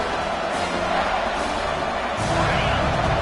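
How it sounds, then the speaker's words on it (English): Stadium crowd at a college football game building noise for a red zone defensive stand, a continuous loud roar that surges louder partway through and stays dense and sustained. "here comes the noise. This crowd is trying to inspire this defense to make a big red zone stop"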